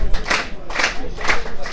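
A football stadium crowd during a Lavaur vs Nice match cheers and claps in swelling bursts, loud and roomy, with rhythmic waves of noise roughly every half second.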